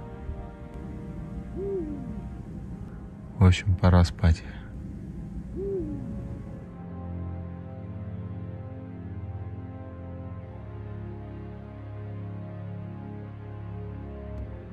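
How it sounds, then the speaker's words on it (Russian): An owl hoots a few times in the distance outside a Volkswagen T6.1 California Beach campervan window against quiet night ambience, with a short burst of louder noise and a brief spoken remark. "слышите, сова за окном кричит."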